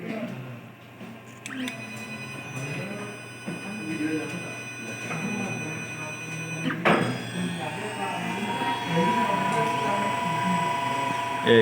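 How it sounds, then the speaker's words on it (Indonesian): A stepper motor and a three-phase AC motor run on a bench, giving a steady mechanical whine with thin tonal hums that shift pitch, plus a sharp click midway, while someone talks over it. "Yaitu motor AC-nya berputar CCW, motor stepper CCW sebanyak 50 dan motor AC-nya frekuensinya 50."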